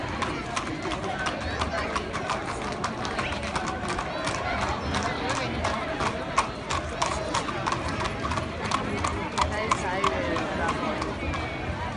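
Horse hooves clip-clopping at an April fair in Ampuero, a dense continuous clatter of many hoofbeats over a busy crowd, with people talking and shouting throughout.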